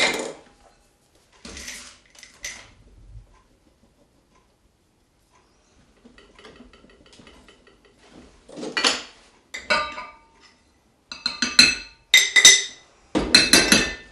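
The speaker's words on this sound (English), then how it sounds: "All you do is dump the contents of the jar in with the other mixture" Jar contents tipped into a mixing bowl with other mixture for a country home-cooking dish, heard as a few scattered clinks and knocks of glass on bowl between quiet gaps, ending in denser clatter.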